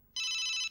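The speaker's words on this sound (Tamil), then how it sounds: "ஃபோன் வந்துருச்சா?" A telephone rings in one steady electronic burst lasting about half a second, loud and close, with no voices over it, during a scene from the Tamil film Positive.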